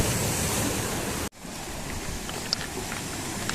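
Sea surf crashes and washes over slippery shoreline rocks in a steady loud roar, briefly cut off for a moment before the wash resumes, with a few small splashes.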